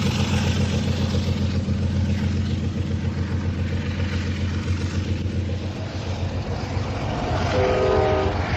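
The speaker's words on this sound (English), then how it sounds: "A northbound San Diegan arrives at the depot for its normally scheduled stop" A northbound San Diegan passenger train arrives at a depot with a loud, steady rumble and rolling noise from its wheels. Near the end, a long tonal horn note sounds.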